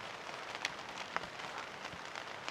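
Steady rain falls outside a screened door under a cover, a soft continuous patter with a few sharper drop taps close by.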